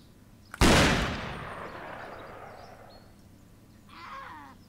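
A single loud rifle shot in the Cabela's Hunting Expeditions game cracks sharply and then rolls off into a long, fading echo across open terrain, followed by a faint bird call.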